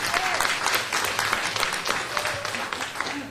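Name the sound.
audience applause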